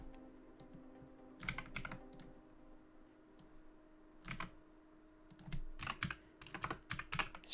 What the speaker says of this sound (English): It's very awkward to type because my microphone's in front of my face, right in front of my keyboard